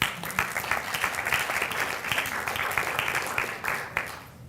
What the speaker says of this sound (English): you should give yourself a round of applause for being here